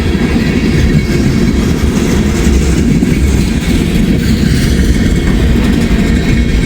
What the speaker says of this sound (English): It's a real long train.